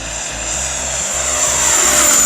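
An RC L-39 model jet with a 105mm electric ducted fan makes a full-throttle high-speed low pass, a loud steady whine that swells slightly as it nears.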